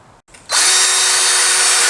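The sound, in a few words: power drill drilling holes in thin wooden boards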